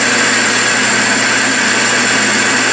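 Steady machining noise from a machine tool cutting cast iron at about 400 RPM, a continuous even whir with a sustained tonal hum and no pauses, fairly loud and close with no talking.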